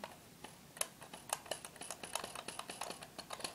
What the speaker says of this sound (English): I don't know if you can hear that spring noise, but that's the second button